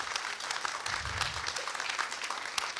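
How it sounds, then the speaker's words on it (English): An audience at an artist's talk at the USF Contemporary Art Museum claps in soft, fairly distant applause that stays steady through the brief moment. "Let's give a round of applause."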